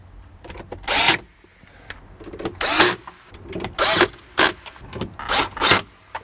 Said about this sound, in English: I turn the torque on my screwdriver way down, my electric screwdriver, when I do this, so as not to damage some of these plastic parts.